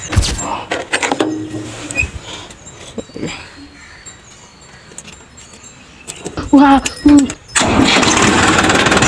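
A farm tractor's engine cranks and catches near the end, rising to a steady loud running roar, after a stretch of voices, clunks and handling noises outdoors.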